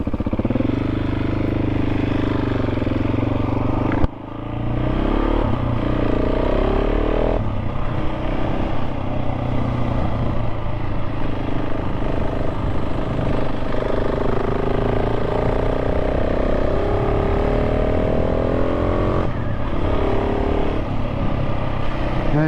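A KTM 690 SMC-R supermoto thrums continuously along bumpy back lanes, engine pitch rising and falling with gear changes and acceleration, close and loud with steady wind and mechanical clatter.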